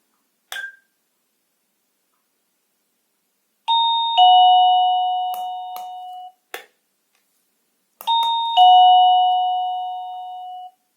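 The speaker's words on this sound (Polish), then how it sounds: "przytrzymać go do momentu, aż usłyszymy dźwięk dzwonka" An Orno OPERA AC 230V wireless doorbell (OR-DB-YK-117) rings twice with a two-tone electronic ding-dong chime, each chime ringing out and fading, with a few sharp clicks from button presses between, close and clear with no talking.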